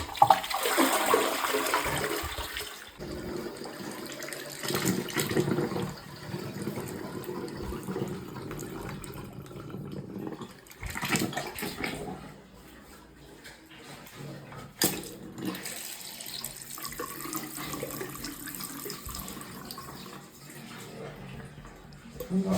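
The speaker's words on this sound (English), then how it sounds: "Toilet filling up." A toilet cistern refills after a plumbing repair, with a rushing flush of water followed by a long, uneven trickling and hissing fill that fades in and out at close range.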